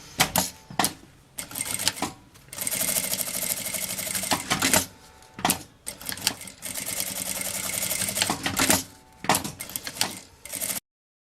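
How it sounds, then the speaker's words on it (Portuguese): A sewing machine stitches the flaps of a fabric notebook cover in several runs of rapid mechanical chatter, near and loud, separated by brief pauses and clicks of fabric handling. "E essa aqui da aba interna, uma costurinha com um pé de máquina"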